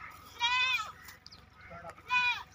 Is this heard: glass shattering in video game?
no